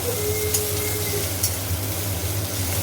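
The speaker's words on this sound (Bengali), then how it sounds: "আর এদিকে এগুলো ভাজা হচ্ছে এঁচড়গুলো" Pieces of young jackfruit fry in hot oil in a home kitchen, a steady close sizzle running without a break, with a faint occasional stir or scrape of the pan.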